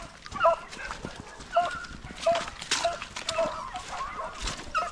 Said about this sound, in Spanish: Hay un perro al otro lado